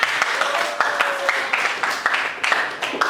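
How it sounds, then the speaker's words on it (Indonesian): A classroom of students clapping their hands in a quick, fairly rhythmic burst of claps over a few seconds, with faint voices underneath. "Kita tepuk tangan."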